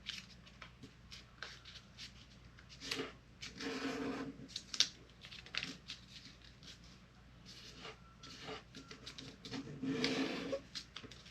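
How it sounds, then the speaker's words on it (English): Paper is creased and folded for an origami scorpion, close and quiet, with soft crisp rustles, scrapes and short rubbing strokes coming in irregular bursts and no talking over them. "fold this edge to the middle crease right here"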